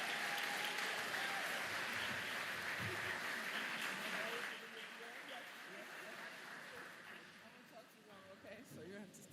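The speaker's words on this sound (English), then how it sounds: "please give a big round of applause to the chair of the Assembly Higher Education Committee" A crowd at a New York education affordability announcement applauds an assemblywoman who chairs the Assembly Higher Education Committee; the dense clapping, heard from a distance, thins out about halfway through.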